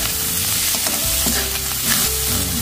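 Garlic, onion and ginger sautéing with crab in a pan for a coconut-milk stew, a loud close sizzle with clattering stirs and some background tones.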